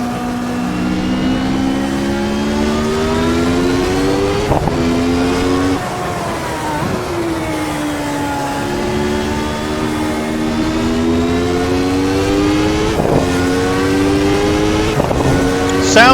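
Lotus 107 Formula One car from 1992, simulated in the Assetto Corsa racing game: a loud, continuous high-revving engine whose pitch climbs and drops, with sharp throttle blips on downshifts and no talk.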